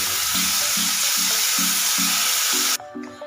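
Chilies frying in hot oil sizzle loudly and steadily as yogurt is poured in, with a low rhythmic stirring clatter underneath; the hiss drops off sharply near the end, leaving a quieter simmer.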